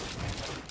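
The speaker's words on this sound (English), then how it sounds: "as you can hear, the gunshots are flying everywhere" Dense, continuous gunfire in the Fortnite video game, a rapid rattle of shots blurring together at steady loudness for under a second.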